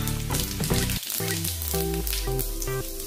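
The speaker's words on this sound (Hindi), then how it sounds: "अभी इसमें हम जीरा डालेंगे 1 चम्मच" A spoonful of cumin seeds sizzles in hot oil in a wok, a bright frying crackle under a loud melodic tonal backing.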